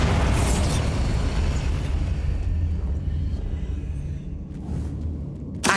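A Confringo explosive spell blast in the Hogwarts Legacy video game, a loud booming rumble that fills the whole stretch and eases a little before a final sharp hit at the end.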